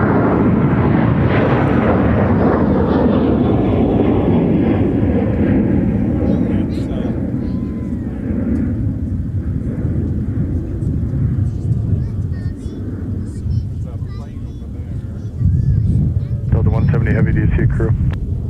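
Jet airliners, including a United 737-900ER, departing runway 30 Left at Minneapolis–St. Paul airport produce a loud, sustained engine roar that slowly fades and then swells again, with wind rumble and a voice talking over it.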